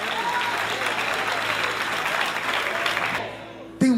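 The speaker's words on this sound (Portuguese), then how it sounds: "Os que podem, tomem o seu assento aplaudindo a Jesus" A church congregation applauds in praise during a worship service, a dense, steady wash of clapping that fills the room and then fades out before the end, with a brief loud burst closing it.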